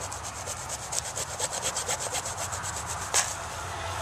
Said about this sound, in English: just go ahead and cut it with your hacksaw or whatever it is that you're using to cut.